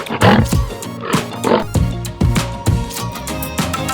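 A lion roars over a music bed, loud, repeated bursts that swell and fade roughly every half second to second across the short stretch, in a children's wild animal lesson.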